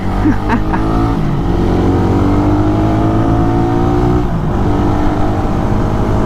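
A Raider 150 motorcycle engine revs close by, with a few quick throttle blips at the start and then a sustained, rough, buzzy running note that rises and falls slightly. It is loud and heard alone.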